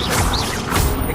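The Expelliarmus spell is cast in Hogwarts Legacy, a brief, loud burst of magical whoosh and crackling impact that fills the moment, dense and noisy throughout.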